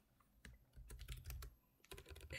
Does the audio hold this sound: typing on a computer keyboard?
yes